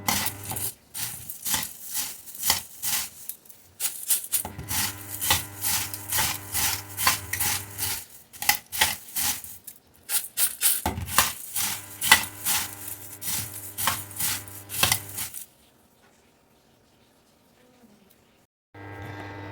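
Puffed rice (muri) is mixed by hand in a small bowl, giving repeated dry crunching, rustling scrapes in uneven bursts up close, with pauses between strokes and a quiet stretch near the end.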